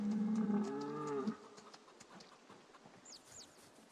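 A cow in the video game Project Zomboid gives one long, low, close moo lasting over a second, followed by quieter ambient game noise and faint high bird-like chirps.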